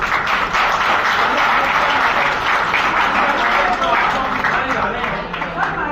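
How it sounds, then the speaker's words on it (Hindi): Loud, dense applause from a large audience of students and guests at a Hindi language day college event, steady throughout with faint voices mixed in. "एक बार जोरदार तालियां आप अपने लिए बजाएं।"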